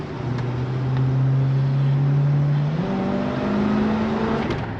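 A car with a freshly installed V-belt drives along, its engine note rising steadily as it accelerates in a continuous, fairly close drone, then dipping briefly and climbing again as it shifts.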